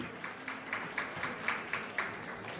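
An audience at a Bengali New Year celebration concert in New York claps, a soft, fairly distant patter of applause with a loose rhythmic pulse, as if many hands are clapping together.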